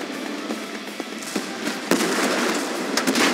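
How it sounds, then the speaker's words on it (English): Tank cannon fire in the Tank Force video game, a string of sharp blasts and crackling bursts with a heavier boom near the middle, loud and dense over a rumbling battle backdrop. "We're under fire."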